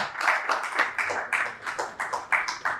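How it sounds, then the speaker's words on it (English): A conference audience claps to welcome a panelist to a discussion on AI adoption in Nigeria. The clapping comes in uneven, pulsing bursts of hand claps, fairly close and continuous for a few seconds. "Please let us make the clap better."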